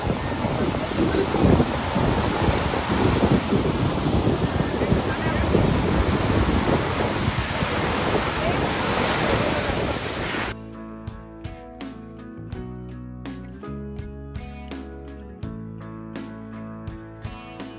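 Sea waves at Puri beach roar and wash in steady surf, mixed with heavy wind buffeting, before the sound cuts to music partway through.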